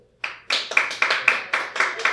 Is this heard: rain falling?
no